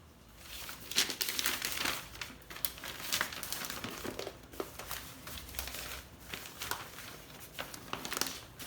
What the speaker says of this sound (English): First we need to get some newspaper in place, because you don't want to mess paint on this nice desk.